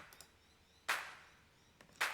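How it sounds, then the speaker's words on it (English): Layered clap samples in an electronic music track ring out as two sharp, bright hits about a second apart, each with a short reverb tail, with faint softer hits between them. "And then added a couple layers of claps."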